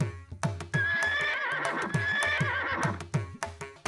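A cartoon horse neighs in a long, loud whinny over a steady clip-clop of hooves, with no voices.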